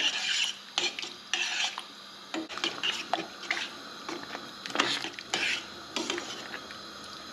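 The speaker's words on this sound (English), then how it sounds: "be sure to keep stirring. We don't want any of it sticking to the bottom of the pan" Bolognese sauce is stirred in a pan, a spoon scraping and clinking against the pan bottom in repeated close strokes with thick wet squelching, loud and alone without any voices.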